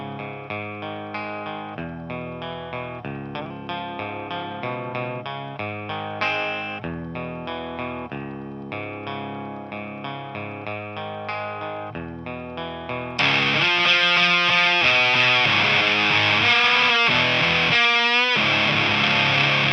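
Heavily distorted electric guitar with a full Hot Rails pickup plays a chugging riff, then jumps louder into a thick, saturated wall of sustained chords and squeals.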